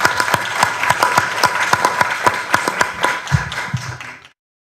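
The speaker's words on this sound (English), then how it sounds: "let's give them a very strong round of applause" Sustained applause from a panel audience, many hands clapping steadily for several seconds before cutting off abruptly.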